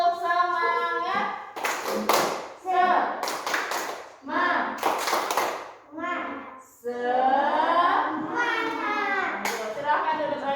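Schoolchildren standing in class and doing a rhythmic clap chant, with bursts of sharp unison hand claps between loud chanted phrases, led by a teacher's voice, in a bright, close room.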